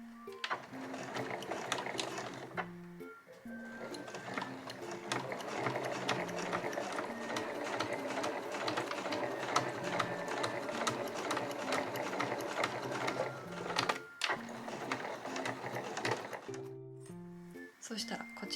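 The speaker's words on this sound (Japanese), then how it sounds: "ファスナーエンドの方から縫っていきます。" A domestic sewing machine stitching a zipper end on a small curved zipper pouch of Marimekko fabric, a steady close mechanical whir with rhythmic needle chatter, stopping briefly twice between runs.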